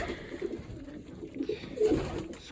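Pigeons coo in a breeding loft during nesting season, soft low throaty calls repeating in uneven bursts close by, with rustling and a louder coo near the end.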